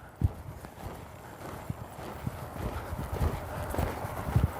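Horse hooves drum in a steady rhythmic canter as the ridden horse works through flying lead changes, moderately close over a low outdoor background.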